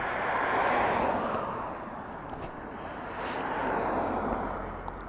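Steady roar of a motorcycle engine while riding, a TVS Raider or similar bike, with broad rushing wind noise and a sustained engine drone, no speech.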